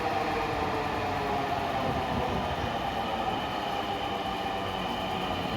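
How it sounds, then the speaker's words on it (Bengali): A Dhaka Metro Rail train runs at Secretariat station, making a steady, loud, continuous rumble and hiss that stays even throughout with no voices. "পাঁচ মিনিট পর পর একটা করে মেট্রো রেল স্টেশনে আসে ভেড়ে"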